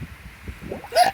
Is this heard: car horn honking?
no